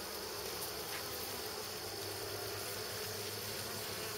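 Honeybees drone faintly around an open hive frame during a fall inspection, a soft, steady, continuous buzz at a distance with no speech.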